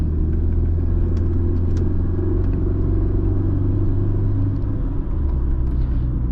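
Interior drive in a 2005 Mercedes-Benz C230 Kompressor W203 on a residential street: a steady, loud low engine and road rumble that holds throughout with a slight shift near the end, no talking.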